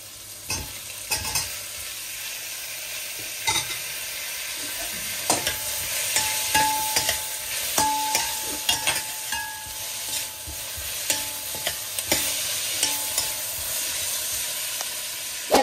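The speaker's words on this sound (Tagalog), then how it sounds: "Halo-halo natin hanggang sa maluto na siya." Tomatoes, ginger and garlic stirred in a hot pan, with a steady close sizzle of frying and repeated scraping clicks of a utensil against the pan throughout, no voices.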